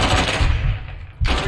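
Rapid, loud automatic gunfire in Call of Duty: Modern Warfare 2 on Realism difficulty. A sustained burst cuts out briefly, then a fresh burst starts abruptly.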